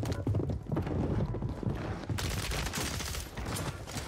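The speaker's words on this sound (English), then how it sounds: "I gotta go shoot my gun." Rapid bursts of video game gunfire from a battle royale-style shooter crackle in dense, loud volleys that fill the whole stretch, with no talking over them.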